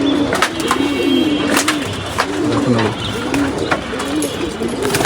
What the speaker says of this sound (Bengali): গাইস আর অনেকগুলো কবুতর আছে, এতগুলো কবুতর হাতে দেখানো যাবে না